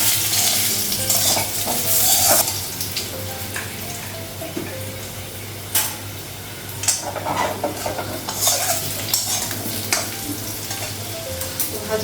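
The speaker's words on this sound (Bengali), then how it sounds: "আলুটা একটু ভেঙে ভাজা" Broken-up potatoes sizzling steadily in hot oil, with intermittent scraping and stirring of a utensil against the pan, close and moderately loud.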